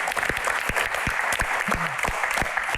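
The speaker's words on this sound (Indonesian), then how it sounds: "Kayaknya kita harus kasih tepuk tangan yang lebih meriah lagi." An audience claps through a live Q&A session, steady dense applause filling the room at close range, with no speech over it.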